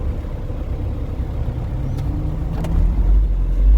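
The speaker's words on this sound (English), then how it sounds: "I'll drive the truck" A truck engine hums as it is driven, a steady low rumble that swells louder toward the end, with no talking.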